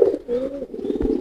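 A pigeon of the fantail breed gives a loud courtship coo: a low, wavering, throaty call lasting about a second, close by, with a faint knock near the end.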